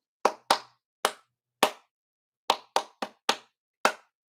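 Nine sharp hand claps tap out an uneven rhythm, some spaced wide and others bunched quickly together, close and crisp with silence between them.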